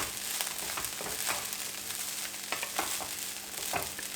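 Egg fried rice sizzles steadily in a hot pan, with a continuous frying hiss broken by regular scraping and clinking strokes as it is stirred, close and fairly loud, with no voices.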